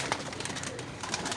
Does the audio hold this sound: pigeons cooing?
yes